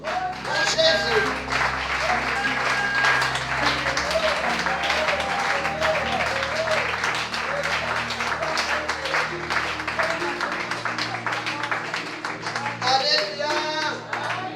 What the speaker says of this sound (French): ça mérite des acclamations